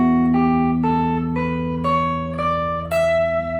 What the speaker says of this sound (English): So the next scale we're going to take a look at is the Dorian scale.